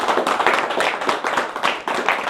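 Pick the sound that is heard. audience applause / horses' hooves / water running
audience applause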